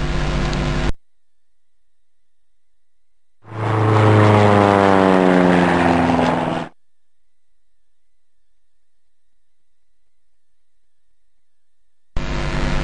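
A propeller aeroplane drones past for a few seconds, its engine pitch sliding as it goes by, with silence before and after.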